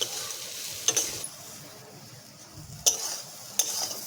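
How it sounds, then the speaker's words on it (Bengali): Ground coriander and cumin sizzle as they are stir-fried in a pan for a vegetable curry, a steady close hiss broken by a few sharp clinks of the spoon against the metal. "ধনে গুঁড়ো, জিরে গুঁড়ো, এটাকে আমি এখন একটু কষিয়ে নেব।"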